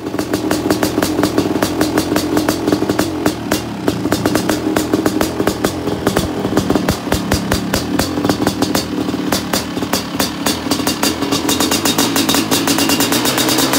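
A 1995 Honda CR500 two-stroke dirt bike engine runs steadily and loudly up close, its rapid crackling firing pulses holding an even, blaring idle with light revs throughout and no voices.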